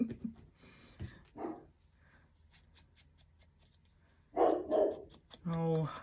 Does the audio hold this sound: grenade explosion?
no